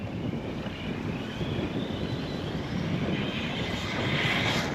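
The electric motor of an Arrma Big Rock RC truck with a Max6 ESC runs steadily with a buzzing drone and gritty rumble, its pitch creeping slightly higher toward the end, no voices.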